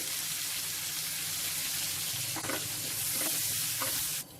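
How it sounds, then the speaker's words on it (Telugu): Curry leaves and a little spice powder frying in hot oil for a pongal tempering give a steady, loud sizzle, with a few soft stirring scrapes near the end. "చివరగా కొద్దిగా కరివేపాకు ఒక పావు టీ స్పూన్ పొడి వేసుకోవాలి"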